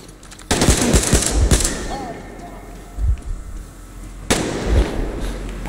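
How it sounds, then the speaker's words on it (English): Gunfire from a suppressed weapon in the shooter game Metro Exodus: loud, close cracking bursts in two clusters with a quieter shot between, over a low ambient rumble. "Suppressed gun still made quite a lot of noise"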